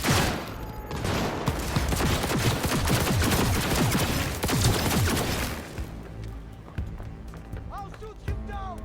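Dense automatic gunfire in the video game Cyberpunk 2077, rapid overlapping bursts for about six seconds, then sparser shots with chirpy electronic effects as the firing tapers off.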